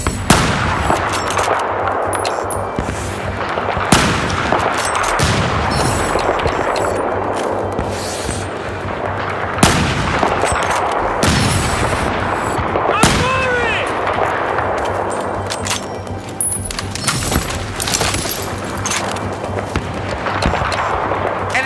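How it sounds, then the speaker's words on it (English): Sustained gunfire in the video game Battlefield 4, dense bursts and rapid shots that continue without a break over a long stretch, with louder impacts now and then and occasional in-game voice callouts. "Enemy machine gun."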